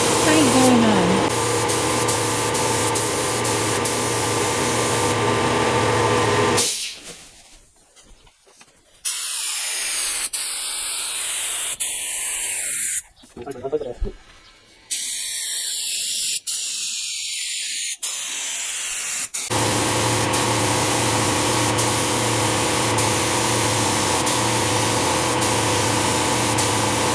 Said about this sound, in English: We've got the fourth layer of paint going on.